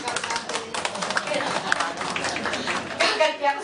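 Audience applause at a church service, steady dense clapping from many hands throughout, under someone speaking.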